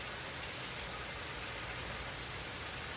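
Steady, even rain falls continuously, a dense hiss with no voices, close and moderately soft throughout.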